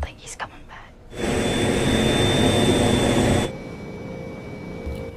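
A jet airplane engine roars loudly and steadily for a couple of seconds, then drops to a quieter hum, after faint breathy sounds at the start.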